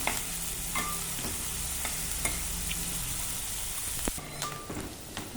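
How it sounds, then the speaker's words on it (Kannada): Ginger garlic paste frying with onions in a pan for mushroom curry, a steady close sizzle with occasional spoon stirs and clinks, and no talking. "ಈಗ ಶುಂಠಿ ಬೆಳ್ಳುಳ್ಳಿ ಪೇಸ್ಟು ಸೇರಿಸ್ಕೊಳ್ಳೋಣ."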